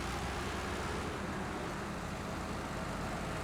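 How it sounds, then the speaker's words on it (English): A loud truck engine in a trucking game set in British Columbia mud routes, a steady low rumbling drone with broad noise, continuous and close, no talk. "I forget about this truck being so loud too."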